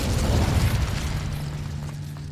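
The Incendio fire spell is cast in Hogwarts Legacy, a loud whooshing, rumbling burst of flame that swells at once and then slowly tails off over about two seconds, with no talking.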